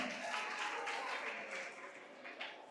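An audience at a school inter-class quiz contest applauds, a continuous patter of many hands clapping across the whole moment.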